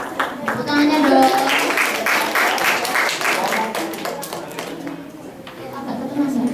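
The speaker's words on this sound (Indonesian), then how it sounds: "Tepuk tangannya dong." A crowd of high school students claps for a few seconds during a school practical exam, then the clapping fades as a voice talks over it, with a burst of claps returning at the end.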